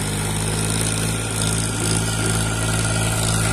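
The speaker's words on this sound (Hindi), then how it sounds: "ये देखिए ला रहा है ट्रैक्टर उधर से" A heavy Powertrac 434 tractor engine drones steadily and loudly throughout, a low, constant rumble with no letup, hauling a loaded trolley uphill.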